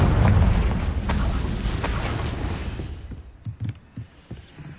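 A Confringo explosive spell bursts in Hogwarts Legacy with a loud booming blast that rumbles and fades over a few seconds, leaving scattered pops and thuds.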